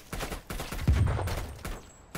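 Gunfire in the video game Black Ops Cold War during a prop hunt match: a rapid volley of shots in fairly close succession, moderately loud, with a deeper thump partway through.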